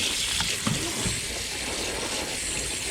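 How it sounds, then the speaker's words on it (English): Steady broadband rush of running water pouring over green beans being rinsed in a sink, continuous and close, with a few faint clinks and no talking. "And give them a good rinsing."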